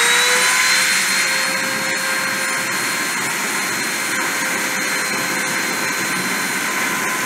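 A machine spindle spins at around 30,000 RPM for a deposition process, a loud, steady high-pitched whine with a constant tone over a broad airy hiss, close and unbroken throughout.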